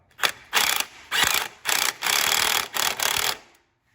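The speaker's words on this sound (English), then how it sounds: "we're going to tighten down this clamp." Ratchet tightening an intake clamp on a Fiat 124 Spider Abarth, seven close, loud bursts of rapid clicking with short pauses between strokes, then silence.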